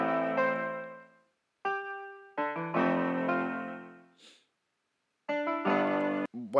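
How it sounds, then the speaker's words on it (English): A bright sampled piano, the Flea patch from a producer sample bank, plays a short catchy melody in separated phrases with ringing decays and gaps of silence between them, moderately quiet and solo. "Third sound that I added in was a piano."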